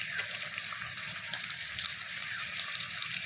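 Water pours steadily into a cooking pot of spiced food, a continuous close hiss and splash lasting a few seconds without pause.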